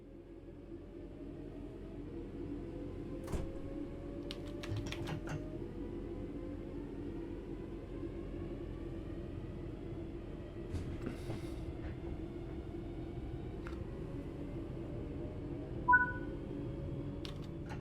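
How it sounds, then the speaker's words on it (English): Train Sim World 4 locomotive pulling away from a stop, a steady low rumble of engine and rolling stock with faint whines and a few brief clicks and a short chime near the end. "Let's get the train moving and see it all working."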